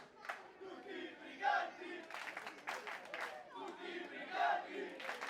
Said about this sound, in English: You can hear the crowd chanting for Karim Brigante, for KB Violence